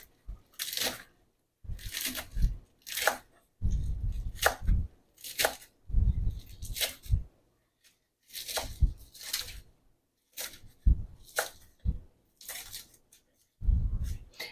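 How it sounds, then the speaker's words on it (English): Knife chopping cooked kale roughly on a board for a butternut squash and kale lasagna, in repeated bursts of quick, close, crisp chops separated by short pauses. "I'm just chopping it up roughly, mostly just because I don't want one big giant piece of kale in my lasagna"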